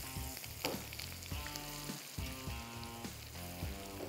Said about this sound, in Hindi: ये सिंपली हमने यहाँ पे लेके इसके ऊपर डाल देना है, और ये हमारा बघार हो जाएगा तैयार